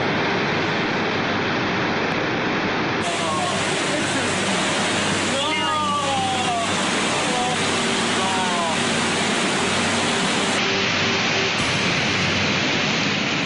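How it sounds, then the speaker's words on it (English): A flash flood in Vernazza sends water roaring down the main street, a loud, dense, unbroken rush with voices faintly audible beneath the torrent. "In minutes, Vernazza's main street becomes a raging river."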